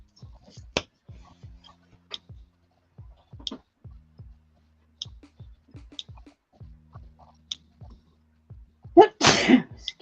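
A single loud sneeze near the end, preceded by soft scattered clicks and taps in an otherwise quiet indoor room.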